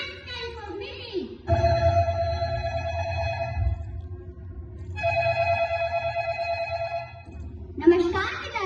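A telephone rings in two long, steady electronic bursts separated by a short gap, close and fairly loud, with a low hum beneath and brief speech before and after.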